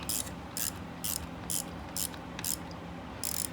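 A ratchet tightening a spark plug on a Ford Expedition 5.4 Triton 3-valve engine, fitted with a swivel, gives about seven evenly spaced bursts of sharp clicking at a steady rhythm, close and clear with no talk.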